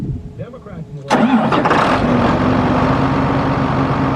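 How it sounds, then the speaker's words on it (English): A tractor engine cold start: brief talk, then the starter catches about a second in and the engine settles into a loud, steady idle close by. "It's not even cold, but we gotta get a cold start."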